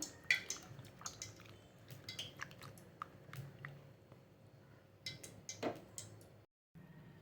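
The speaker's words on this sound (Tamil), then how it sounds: "இந்த புளியை நல்லா கரைச்சி வச்சுக்குவோம்" Tamarind is squeezed and kneaded by hand in water in a kitchen for puli rasam, giving soft wet squishes, drips and small clicks in an irregular rhythm, close and quiet, with no talk.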